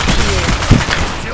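Brief burst of gunfire in Call of Duty: Black Ops, a loud close shot among rattling game noise in a short snippet with a voice faintly underneath.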